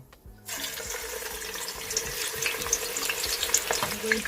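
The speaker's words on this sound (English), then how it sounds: "I've added the vegetable oil in the pot, and the oil is already hot, so I'll be adding the chopped" Chopped onion hits hot vegetable oil in a pot for Nigerian jollof rice, setting off a sudden, steady, loud sizzle after a brief quiet start, with faint stirring scrapes and crackles throughout.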